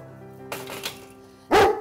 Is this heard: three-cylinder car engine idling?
no